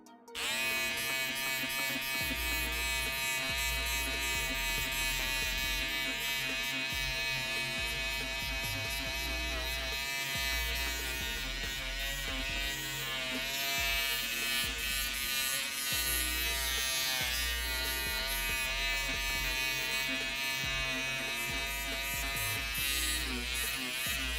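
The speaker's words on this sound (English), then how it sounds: "that guy is shaving a puppet" An electric shaver buzzes steadily and loudly as it shaves a puppet in a workshop, a continuous close drone with slight shifts in pitch as it presses against the material.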